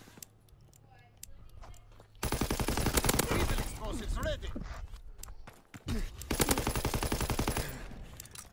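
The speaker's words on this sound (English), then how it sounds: "Call for a strafing run. Fighter aircraft ready." Strafing run in a WW2 video game, with long bursts of rapid machine-gun fire from fighter aircraft crackling loudly in two main volleys after a quieter lead-in, and a voice speaking over the shooting.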